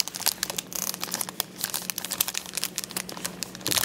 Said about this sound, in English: Split the foil from the middle.